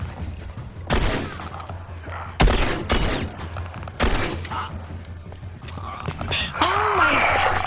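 Gunfire in The Last of Us, several sharp shots spaced a second or so apart over a continuous game soundscape, with groans and other game noises between them.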